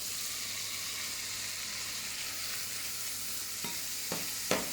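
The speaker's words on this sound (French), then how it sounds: "je viens déposer mon morceau de beurre que je laisse fondre" Butter melts and sizzles in a pan, a soft, even frying hiss that runs on steadily, then a few sharp knocks or utensil taps near the end.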